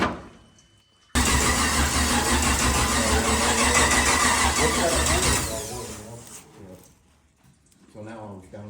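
A 6.2 V8 engine swapped into a 1939 chopped Chevy hot rod cranks briefly, then catches and roars loudly to life, running rough for several seconds before settling, followed by faint voices.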